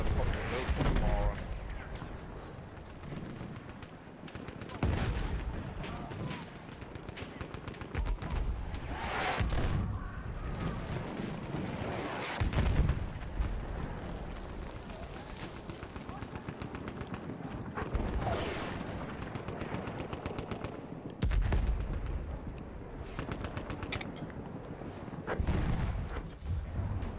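Video game gunfire in a multiplayer shooter with shotguns, bursts of shots recurring every few seconds at modest level, mixed with game noise and players talking over it.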